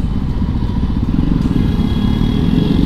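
A Jawa Perak BS6 motorcycle engine runs steadily and loudly up close while riding, a continuous rumbling drone with some rattling clatter, no voices.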